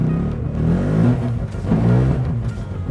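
A Mazda RX-7 engine runs roughly and unevenly at close range, its low rumble wavering and surging without pause for the whole stretch.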